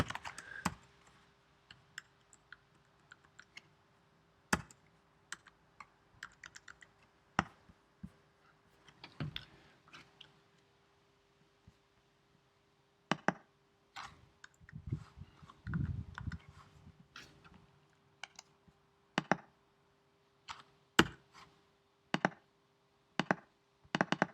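Typing a spreadsheet formula on a computer keyboard: scattered, crisp key taps in short irregular clusters separated by quiet gaps, close and clear in a still room.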